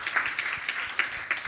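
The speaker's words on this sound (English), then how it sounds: "Everybody give them a round of applause," Applause from a conference audience at a tech diversity and inclusion event in San Francisco, a brief, moderately loud patter of many hands with a few sharper claps standing out.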